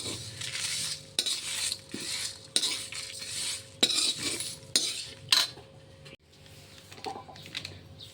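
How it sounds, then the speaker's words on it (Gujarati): Spices such as coriander and sesame seeds dry-roasting in a pan on low heat, stirred with a metal spoon in repeated scraping, clinking strokes over a faint sizzle, no speech. "તો ધીમો ગેસ રાખીને આપણે બધા મસાલા શેકી લઈશું"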